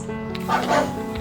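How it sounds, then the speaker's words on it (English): A short dog bark, one or two quick woofs, over a steady background hum. "The dog sounds like this."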